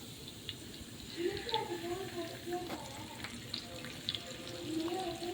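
Fish coated in spice powder frying in hot oil, a soft steady sizzle with occasional crackles and pops, close and moderately quiet.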